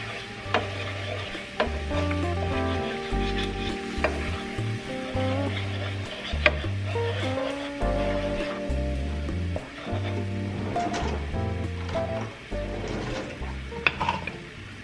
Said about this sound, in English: you guys don't have to hear all the smacking from that wooden spoon